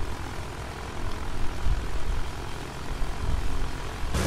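A small, fast fighter plane flies in Battlefield 1, its steady propeller engine droning at moderate volume with slight swells in intensity and no talk over it.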